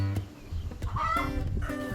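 Polish breed hens and a rooster cluck close by in a run of short, irregular calls with a few louder, drawn-out squawks.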